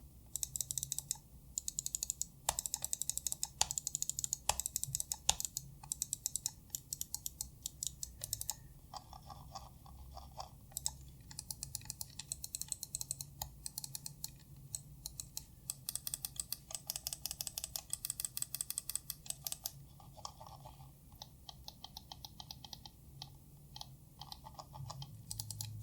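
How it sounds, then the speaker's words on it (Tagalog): Buttons on an ASUS TUF Gaming M3 mouse are pressed repeatedly, producing crisp close-up clicks in quick irregular bursts with short pauses, steady and fairly quiet, with no voices. "Ito naman yung tunog ng mga buttons kapag pinipindot."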